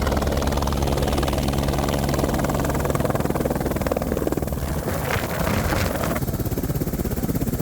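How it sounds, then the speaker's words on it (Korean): Rescue helicopter in the Himalayas, its rotor thumping loud and steady throughout with a continuous engine whine, staying close and constant with no talk. "다친 대원을 응급으로 수송하기 위해 다시 헬기를 호출했습니다."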